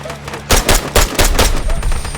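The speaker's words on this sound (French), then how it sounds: "Des unités, on tire les pneus." Loud bursts of gunfire hammer away in rapid volleys inside the video game Arma 3 as shots are aimed at a vehicle's tires, the quick repeated reports arriving close and densely packed after a brief quiet start.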